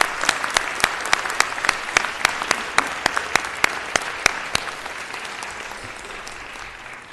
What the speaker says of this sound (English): I ask you to give him a big round of applause